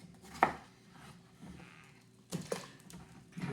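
A kitchen knife cuts potatoes for fries on a board, making a few sparse, sharp chops with pauses between them, fairly quiet.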